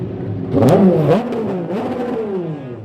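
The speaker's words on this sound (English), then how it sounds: "So the cars, the Euroformula Open, heading down into the pit lane at Silverstone." Euroformula Open single-seater race cars at Silverstone rev loudly as they head into the pit lane, engine pitch rising and falling in sweeping passes with a brief whirring clatter.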